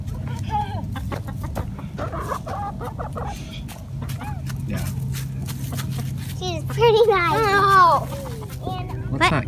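A hen being hugged at a backyard corral clucks and murmurs softly in close range, with a louder burst of clucking near the end, while children and adults chat around her.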